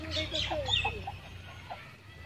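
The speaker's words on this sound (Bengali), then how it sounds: "এটা হচ্ছে রাজা হাঁস," Royal ducks, a China and Belgium cross breed, clucking and quacking in short close calls, a few quick notes and then quieter ones over low background noise.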